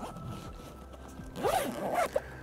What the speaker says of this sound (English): We've got two end pockets, all featuring two-way zips.